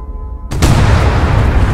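A massive blast from a hundred dynamite and a hundred hydrazine in the Astroneer video game erupts after a brief quiet hum, a sudden loud boom followed by a sustained roaring rumble that fills the rest of the moment.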